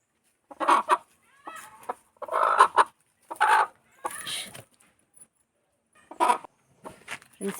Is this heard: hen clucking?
yes